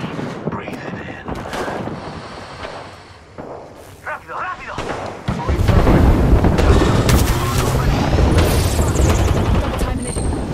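Gunfire in the shooter game Apex Legends: scattered sharp shots and booms at first, then sustained loud rapid automatic fire and explosions. In-game voices speak intermittently.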